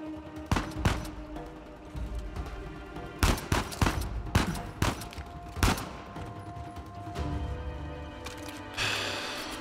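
Gunfire in Uncharted 4, played on a very hard difficulty setting, comes as irregular sharp shots and short bursts scattered across the stretch, with a mechanical rumble beneath and a hissing burst near the end.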